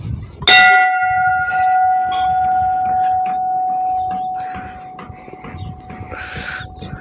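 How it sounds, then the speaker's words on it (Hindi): A single strike of the Dogra Regiment bell at Tabo Monastery in the Spiti Valley rings out loud and metallic, its clear tone lingering and slowly fading over several seconds above faint background murmur and movement. "यहाँ डोगरा रेजिमेंट का घंटी"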